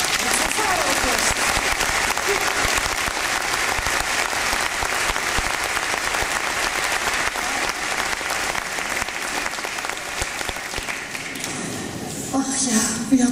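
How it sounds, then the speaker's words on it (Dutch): An audience in a church applauds a wind orchestra after its performance, dense sustained clapping filling the space throughout, with a voice emerging over it near the end. "Nog één keer een applaus"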